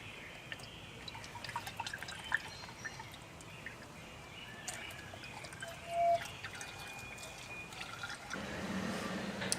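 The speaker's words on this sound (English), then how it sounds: "All right, now you can go ahead and add your oil." Motor oil poured through a funnel into the engine of a second-generation Nissan Xterra, a quiet continuous trickle and gurgle with small drips, the flow thickening near the end.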